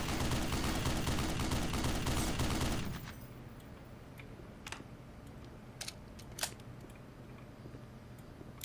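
Rapid automatic .50 caliber gunfire from the video game Black Mesa rattles loudly for about three seconds, then stops, leaving a quiet stretch broken by a few scattered sharp clicks and distant pops.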